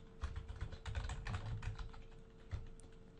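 A computer keyboard clatters with quick, uneven bursts of keystrokes close by, fairly soft, with a few pauses between bursts and no talking.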